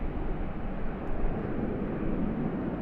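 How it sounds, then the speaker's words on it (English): A Singapore Airlines Airbus A380-800 departing Sydney Airport, heard as a steady, broad jet-engine roar that stays constant and fairly loud throughout, with no talking. "now we get our first Airbus A380 departure"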